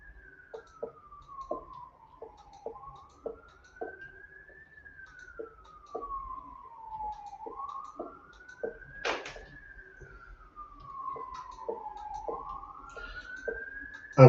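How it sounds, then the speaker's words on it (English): A siren wails up and down as it passes through a residential neighborhood, moderately distant and steady, accompanied by faint regular ticking clicks. "I don't know if you can hear the siren."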